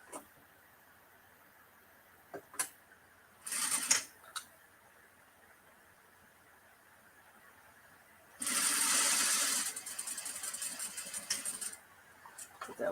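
A sewing machine stitches a side seam with its bobbin running low, a steady whirring run after several short bursts and clicks, close and fairly loud.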